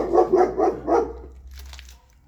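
A dog gives four quick, close barks in a row, followed by a fainter scuffling rustle as the barking stops.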